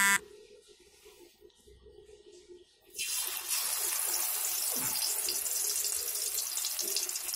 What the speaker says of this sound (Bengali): এবার আমি এতে একটা একটা করে 3খানা মাছ প্রথমে ছাড়বো।